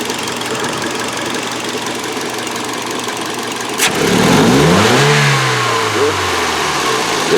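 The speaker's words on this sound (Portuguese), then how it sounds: "tem hora que você acelera ele dá aquela pequena murchada para depois ele abrir o giro" A Toyota Corolla engine with a cold-start misfire and new injectors idles roughly, then revs sharply, dips briefly and climbs again as it picks up, loud and close.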